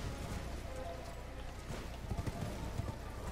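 A horse ridden in the video game Elden Ring gives off steady, muffled clip-clopping hoofbeats under a constant wash of ambient game sound, growing slightly more distinct toward the end.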